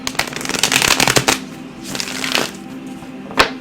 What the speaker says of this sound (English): It's really satisfying to have a good shuffle.